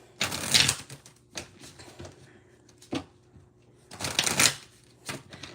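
Tarot cards shuffled by hand in bursts of riffling and flicking, with two longer rustling shuffles and short taps between them, close and fairly quiet, with no talking.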